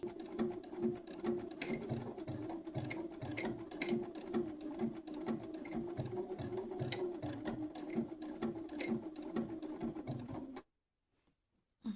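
A sewing machine stitching a T-shirt design onto the back of a flannel shirt, a fast, even mechanical whir with rapid rhythmic needle ticks, close and steady before cutting off abruptly near the end.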